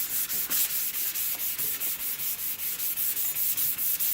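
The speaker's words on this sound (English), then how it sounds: "So if you notice when I'm sanding, I'm going from one side to the other in a diagonal" Hand sanding a skateboard deck in diagonal strokes, a steady rhythmic scratchy rubbing with regular back-and-forth pulses, close and fairly loud, no voices.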